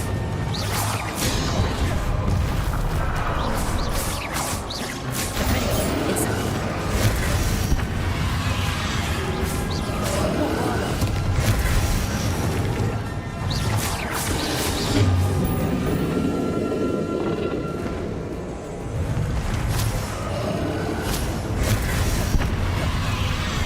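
Explosions from the Bombarda spell in the video game Hogwarts Legacy, heard as loud, dense booms and crashes with whooshes and debris. The blasts run almost unbroken for over twenty seconds.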